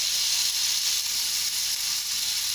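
Pineapple tikka sizzles in an uncovered pan, a steady, bright frying hiss close by, continuous and even with no voices over it.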